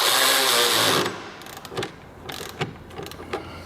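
A wrench tightens an M10 bolt on a lift kit for a 1990-1998 Mitsubishi Minicab van. A second of loud broadband noise is followed by a few sharp metallic clicks and taps that ratchet and seat the bolt.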